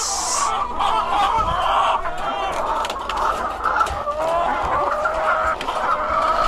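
Chickens cluck busily at close range while pecking at their feed, a steady, overlapping chorus of soft clucks and murmurs with no pauses.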